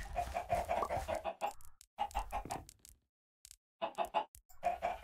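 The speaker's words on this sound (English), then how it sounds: "More chickens." Several chickens in a Minecraft-style video game cluck in quick, choppy bursts separated by brief silences, close and clear with no talking.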